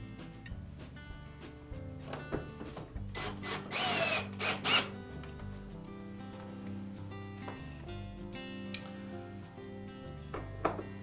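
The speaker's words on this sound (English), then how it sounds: "Now next we'll install the 2 center screws." A power driver spins screws into a Frigidaire dryer door hinge in a couple of short, loud whirring bursts, with quieter clicks around them and music playing underneath.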